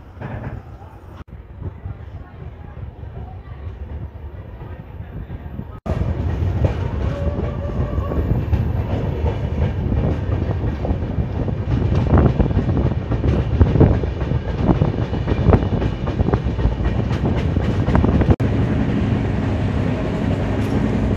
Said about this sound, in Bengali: ট্রেন আমাদের ছেড়ে দিল সাক্ষীগোপাল স্টেশন